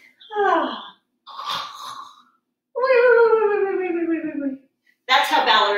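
Children's voices imitate snoring in a pre-ballet class, making several drawn-out, wavering vocal snores separated by short pauses, up close and fairly loud.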